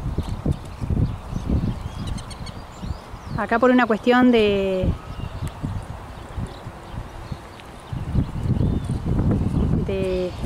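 A tame, dark-brown horse moves with a steady clip-clop of hooves close by at an outdoor spot, while someone talks over much of it.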